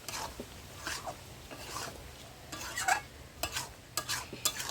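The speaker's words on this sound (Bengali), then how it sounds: "এখন মশলা কষে তেল ছেড়ে দিয়েছি।" Spice masala for a skin-on chicken curry is stirred and fried in oil, with soft, quiet scraping strokes against the pan over a faint sizzle, coming in irregular bursts.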